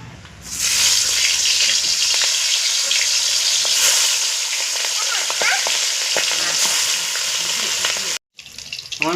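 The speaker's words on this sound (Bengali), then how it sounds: "বাকি মাছগুলো এরকমভাবে ভেজে নেব।" Katla fish pieces sizzle steadily in hot oil in a pan, a loud continuous frying hiss with small crackles and pops, cut by a brief silence near the end before resuming.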